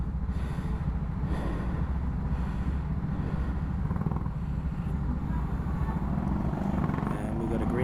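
Racing karts pull out of a marshalling area onto a track, a steady loud engine drone close by with a buzzing rasp that holds throughout, with no clear breaks.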